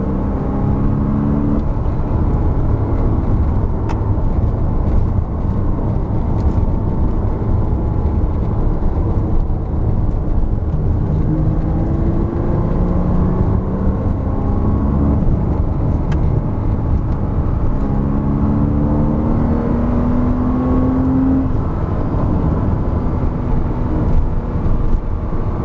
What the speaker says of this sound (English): let you guys enjoy the sound of this flat 6